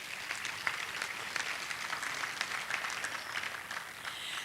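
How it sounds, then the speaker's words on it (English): Audience applause at a civil rights commemoration event, a steady dense wash of many hands clapping at moderate distance, fairly even in loudness with no speech over it. "let's applaud for that"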